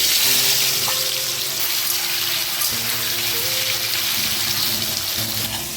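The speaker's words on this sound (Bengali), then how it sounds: "তেলটাও গরম হয়ে গেছে, চিংড়িগুলো আবার দিয়ে দিলাম।" Prawns, rubbed with salt and turmeric, fry in hot oil in a pan for a Bengali pumpkin and prawn curry, giving a loud continuous hiss under a faint steady hum.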